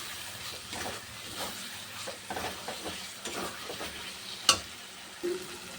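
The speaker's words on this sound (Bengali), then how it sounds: "এবার একটু আলুটা দিয়ে একটু হালকা কষাবো" Potatoes lightly frying in spiced oil in a pan, a soft continuous sizzle broken by scraping stir strokes and a sharp utensil clink near the end, no talking.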